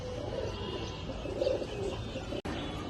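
Silver almond Mor pigeons coo softly in a low, continuous burble with light chirps, fairly quiet and close, broken by a brief sharp click near the end.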